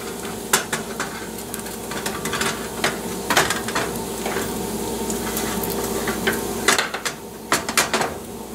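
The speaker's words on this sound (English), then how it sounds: "And what I'll do now is rake all the bacon to one side" Bacon in hot grease is raked across a pan to one side, giving a continuous sizzle under scraping and clinking utensil strokes that come in uneven bursts, close by.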